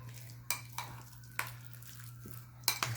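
Spoon scraping and clinking in a pot while fresh basil is stirred into eggplant parmesan sauce, a few faint sharp knocks over a low steady hum, quiet and close.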